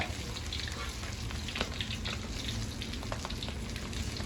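Fish frying in oil in a pan in a home kitchen, a steady dense sizzle with small crackling pops throughout, close and continuous with no talking.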